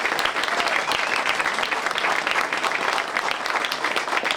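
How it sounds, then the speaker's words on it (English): A dense, steady round of audience applause at a building topping-off ceremony, many hands clapping continuously and fairly close for several seconds with no voices on top. "Can we give them a huge round of applause?"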